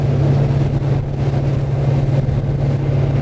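A Dromeas 28CC motorboat cruising at 25 knots gives a loud, steady engine drone with a strong low hum and constant rushing water and wind noise, running evenly throughout without any voices.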